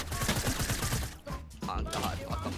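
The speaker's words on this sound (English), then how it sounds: "All I have is a heavy sniper, so... watch this shit." Heavy sniper rifle shots in the Fortnite game, several loud sharp cracks over a busy background of game noise, with a brief quieter gap midway and a voice talking faintly underneath.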